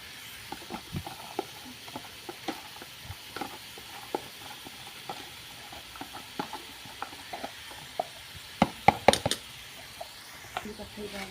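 Ridge gourd and soaked chana dal are stirred into frying onions in a pan, with soft sizzling and scattered scraping taps that grow busier toward the end, all fairly quiet.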